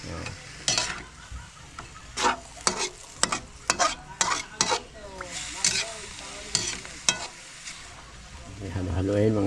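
Squid frying in a pan, stirred repeatedly: scraping strokes come in irregular bursts over a constant sizzle, close and fairly loud, with a low voice faintly underneath.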